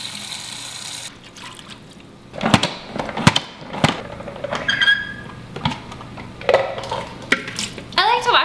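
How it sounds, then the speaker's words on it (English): Fresh cilantro rinsed under a running kitchen faucet, with intermittent splashing and close clatter of hands and a dish against the sink, beginning after a quieter stretch. "We're just gonna give our cilantro a wash."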